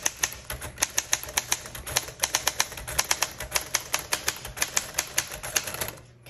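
Sentences being typed on a 1947 Royal Quiet Deluxe manual typewriter: quick, crisp key strikes in an even, rapid rhythm, close and clear, stopping just before the end.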